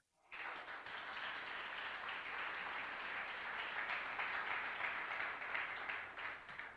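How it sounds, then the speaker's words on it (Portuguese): A church audience breaks into sustained applause, a steady wash of many hands clapping that starts abruptly and holds evenly at a moderate distance. "Vamos aplaudir o Senhor Jesus?"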